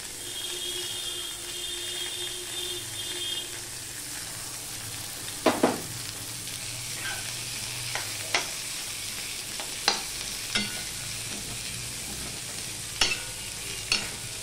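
Sliced onions and garlic fry in hot oil in a pan with a continuous sizzle. Sharp clacks from a stirring spoon against the pan recur throughout.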